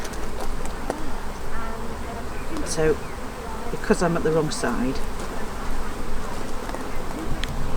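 Honeybees hum and buzz steadily around an opened beehive at a new apiary at RHS Garden Harlow Carr, close and constant while someone talks over them.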